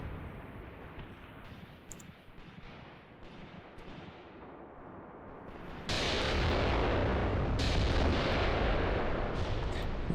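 Heavy artillery fire in the war game Graviteam Tactics, a distant rumbling barrage that swells abruptly into a loud, sustained roar of blasts and echoing booms, with no talk.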